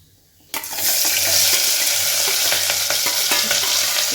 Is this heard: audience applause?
no